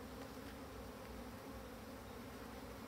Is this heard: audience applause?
no